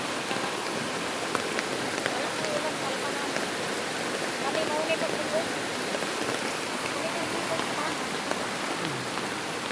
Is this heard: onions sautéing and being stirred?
no